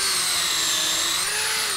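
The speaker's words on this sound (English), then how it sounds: "a hole can be drilled at that point" A power drill bores a hole in a rubber mat, giving a steady high whine with a slight pitch shift as it runs continuously through the short stretch.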